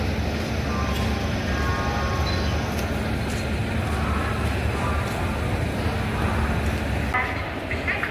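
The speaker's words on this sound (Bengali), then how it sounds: "হাওড়াপুরি বন্দে ভারত স্টেশন ছেড়ে বেরিয়ে গেল।" The Vande Bharat Express at Howrah pulls out of the station with a steady, loud rumble and a broad hiss of rolling wheels. Faint platform noise sits underneath.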